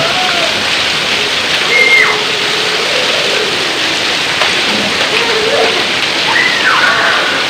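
Heavy rain pours down steadily outdoors while children bathe and play in it, a dense constant hiss with faint distant voices and occasional splashes.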